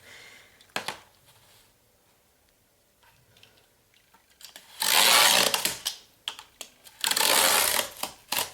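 A recycled cardboard sheet is cut in two, with bursts of loud rasping cutting noise after quieter handling rustles and taps, the harsh cutting strokes coming in two long runs with short pauses.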